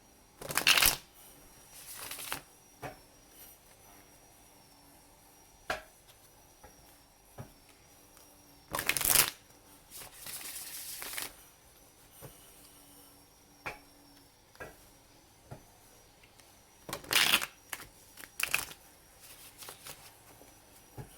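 A tarot deck is shuffled in several short, crisp riffling bursts spread across a quiet indoor space, with soft card handling and silence in between and no talking.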